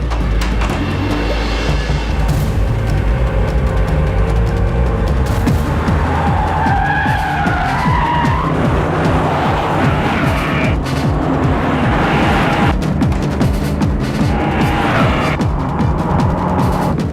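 A car turns hard and skids, tires squealing loudly and continuously over an engine roar, the screech rising and wavering through repeated slides in an action scene.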